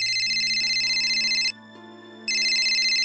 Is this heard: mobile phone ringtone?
yes